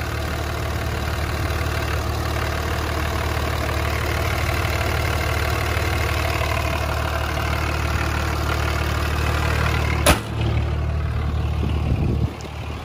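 A 2004 Dodge Ram 3500 with a 5.9 Cummins diesel engine, BD twin turbos and a three-piece exhaust manifold idles steadily with a constant low throb and mechanical clatter, and a brief sharp click near the end.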